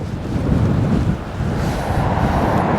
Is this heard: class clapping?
no